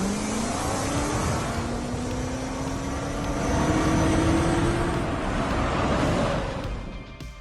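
A Mitsubishi Montero off-road SUV sets off on a lap, its engine rising in pitch under hard acceleration over a loud wash of road and wind noise, then fading toward the end.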